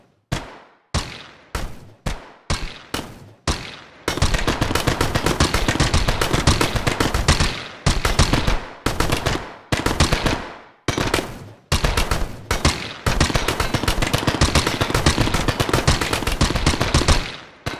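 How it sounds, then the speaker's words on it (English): Rapid video game gunshots, procedurally randomized, first a run of single cracks with short gaps, then dense bursts of automatic fire, each shot slightly different in pitch and loudness. "And so now each gunshot sound sounds unique."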